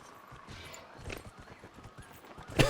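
Horse hooves clip-clop in the video game Dragon Age: Inquisition, a quick steady trotting rhythm at moderate level that picks up slightly, then ends in a sharper louder clatter.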